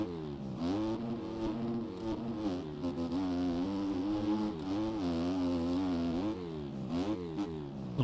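A Gas 250 motocross bike engine in the MX Bikes racing game, a steady high buzzing drone that rises and falls in pitch with throttle and gear changes, loud and continuous throughout with no talk.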